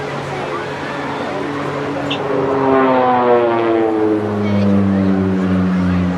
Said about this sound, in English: A little bit of an example of a strafing pass there, using the big chandelle to reverse the position.